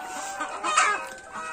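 Local chickens cluck softly at close range, giving a short burst of overlapping clucks with one louder call in the middle.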